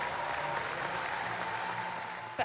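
A crowd at a track cycling World Cup podium in Cambridge claps and cheers in a dense, steady roar of applause that carries on unbroken for several seconds.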